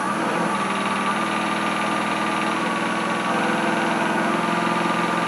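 A wood lathe used for hollowing starts up and spins steadily, a continuous mid-pitched motor hum with a faint high whine, loud and close, with no talk over it.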